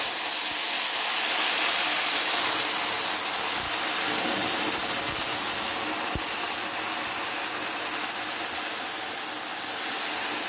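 Two cups of water poured into a pan of toasted golden vermicelli, a steady loud hissing sizzle with bubbling and a few knocks, continuous throughout with no talking.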